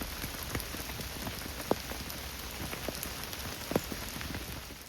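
Heavy rain pours down steadily at a lakeside fishing spot, a dense hiss of drops on surfaces with occasional louder close taps, no voices.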